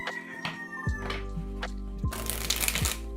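Tarot cards being shuffled by hand, giving close, crisp riffling and soft papery crunches over a steady low background hum, with a brief burst of flapping card noise near the end.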